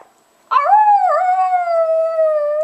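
A lone coyote gives one long, wavering howl that rises sharply and then holds steady, loud and fairly close, alone after a moment of near silence.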